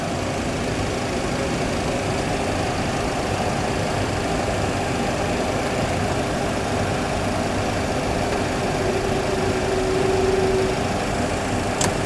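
Training aircraft engine during takeoff, a steady, dense broadband roar with an even drone that holds constant throughout, no distinct changes or other sounds standing out.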